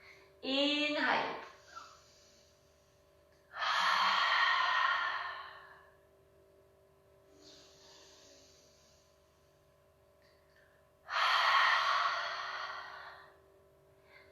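Slow, deep breaths during a yoga breathing class: three long audible exhales spaced several seconds apart, each a breathy rush lasting about two seconds, close to the mic in a quiet room, with a short voiced sound near the start.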